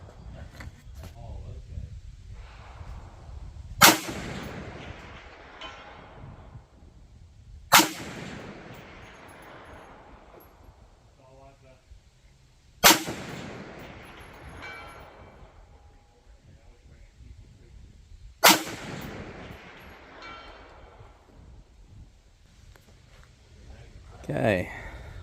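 A 350 Legend rifle fires at a steel plate 400 yards away: four sharp, loud shots spaced several seconds apart, each followed by a decaying echo, with faint distant rings and a voice talking between shots.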